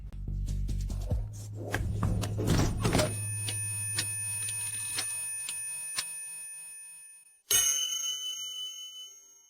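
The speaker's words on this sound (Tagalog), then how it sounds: "narinig niyo ba ang tunog ng kampana?" A bell rings with a bright metallic clang that hums and fades slowly, then a second sharp strike rings out and decays.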